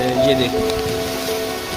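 Rain falls steadily in a village, a soft continuous hiss heard close by, with someone talking over it.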